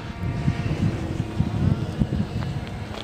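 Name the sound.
motor of a flying model drone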